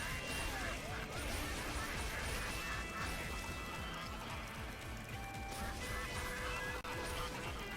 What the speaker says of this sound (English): you got geese on the left and a gander on the right